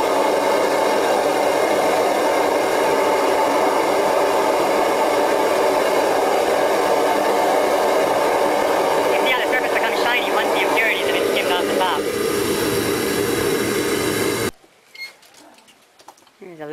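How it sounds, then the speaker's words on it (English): A naturally aspirated Mongo burner roars steadily into an aluminum melting furnace, a loud continuous rushing blast that cuts out abruptly near the end, with voices heard over it. "Got a Mongo burner from hybridburners.com. It's naturally aspirated."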